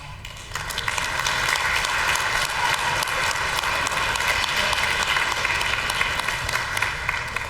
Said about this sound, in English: Students, can we give them a round of applause?